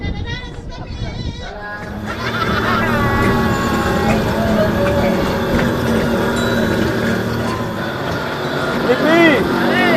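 Rumbling rail noise with clanking and squealing wheels fills a tourist train ride at Sierra Sky View in Malino, as people chatter in the background and occasional high screeches ring out.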